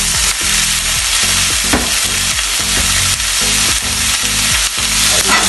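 Chicken pieces stir-fried in a wok with mushrooms, a spatula scraping and stirring in steady repeated strokes over a constant loud sizzle, with background music underneath.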